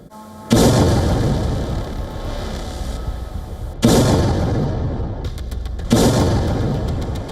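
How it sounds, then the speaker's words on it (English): Explosions from Russian drone and missile strikes on Kyiv boom out in three loud, sudden blasts, each followed by a long rumbling decay. "Russian drones and missiles roar across the Ukrainian skies. Explosions rock busy streets."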